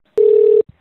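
A single tone from a phone on an outgoing call to a finance company's number, about half a second long, loud and steady, followed by a brief soft click.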